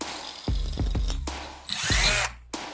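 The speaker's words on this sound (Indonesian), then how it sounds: "Bor lubang melalui bagian tengah gagang kayu dan klip kantor." A power drill whirs in several short bursts and then one longer run, boring up close through the middle of a wooden handle and an office clip.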